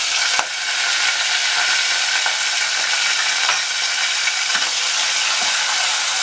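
Grated tomato sizzles hard in a hot pan with garlic and vinegar for chicken fatteh, a dense, loud, continuous frying hiss with a few small clicks and stirring knocks.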